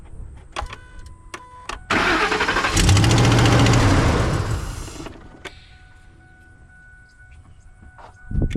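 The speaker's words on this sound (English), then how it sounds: "see if it'll turn over." A car engine cranks and catches while powered by a JFEGWO 6250A jump starter pack. A few clicks come first, then a loud whirring crank that bursts into a running engine and settles into a quieter idle, with no talk over it.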